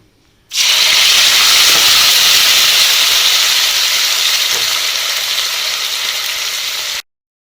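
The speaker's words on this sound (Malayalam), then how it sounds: "എണ്ണ ചൂടായിട്ടുണ്ട് നമുക്ക് തിരുമി വെച്ചിരിക്കുന്ന സവാള ഇട്ട് വഴറ്റിയെടുക്കാം" Onions dropped into hot oil for soya masala burst into a loud, close, sustained hiss and sizzle that starts abruptly, fades slightly and stops suddenly, with no voices.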